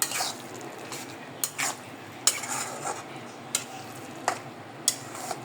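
Peanut bhorta stirred in a metal pot, a spoon scraping and knocking against the sides in a steady series of sharp clinks and scrapes, close and clear with no talking.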